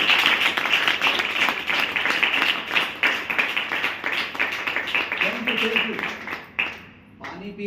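An audience at a motivational seminar claps in a loud, sustained burst of applause for several seconds, then it fades out and a voice starts talking.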